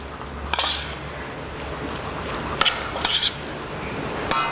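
Fish is mixed lightly into leeks in a pan, with a spoon scraping and clinking against the metal in a few short bursts over a soft, steady background hiss.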